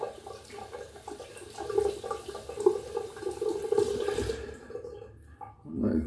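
Water pours and splashes steadily onto a large grooming tool being soaked, a close running-tap rush that swells in the middle, eases off and briefly returns at the end.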